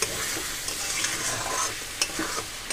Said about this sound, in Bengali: যেহেতু আমি মশলাটা গ্যাসটাকে সিম করে করে কষাচ্ছি, ওই জন্য দেখো কত সুন্দর তেল ছাড়ছে মশলা থেকে